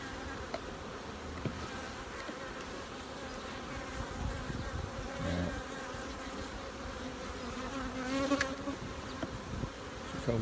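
Honey bees drone steadily inside comb-honey supers on a hive, a dense close buzzing that holds for the whole stretch, with a few louder passes of individual bees near the end.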